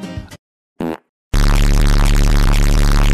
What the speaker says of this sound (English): Don't always fart, but when I do.